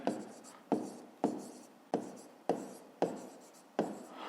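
A pen writes on paper in about seven short, evenly spaced strokes, each a sharp scratchy onset that fades, close up during a fifth-grade math exercise.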